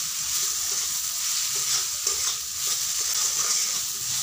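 Spices with turmeric and salt sautéing in a pan, a close steady sizzle with soft crackle and faint scraping of stirring, continuous and without talk.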